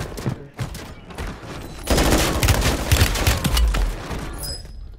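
Rapid gunfire from two teams trading shots in the video game Hunt: Showdown, dense bursts of overlapping shots filling the second half after a few scattered earlier reports, loud and continuous with no talking.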